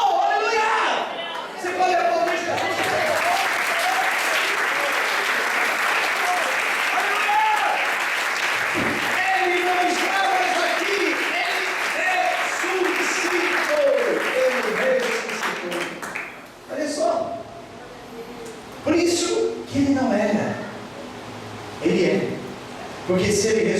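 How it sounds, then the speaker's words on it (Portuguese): A church congregation applauds in a long, loud, sustained wash of clapping that gradually thins out and breaks into scattered claps near the end, with a preacher's amplified voice talking over it. "Você pode aplaudir Jesus?"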